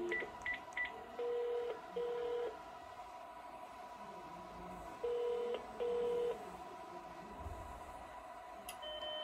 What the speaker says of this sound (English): So we're gonna call 333.